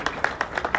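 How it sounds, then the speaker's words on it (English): Brief burst of audience clapping for staff at the unveiling of a football players' association office, a few scattered, moderately faint claps. "Please clap your hands for our staff."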